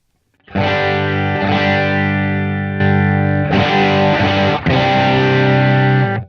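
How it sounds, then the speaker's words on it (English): Overdriven electric guitar tone built from an EQ boost on a Helix Stadium XL modeler, loud sustained distorted chords ringing out in several separate strums with short gaps, no voices. "You can make your own overdrive."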